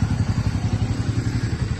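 A motorcycle engine idles close by with a steady, rapid low thumping pulse, loud and continuous throughout.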